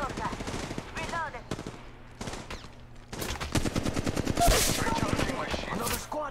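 Rapid automatic gunfire bursts in the mobile battle royale game Apex Legends Mobile, loud and close, with repeated fusillades and brief pauses between volleys, thickening into dense continuous shooting in the second half.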